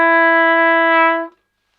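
A single steady note from a valved brass instrument, held cleanly for just over a second before ending abruptly, alone with no talk.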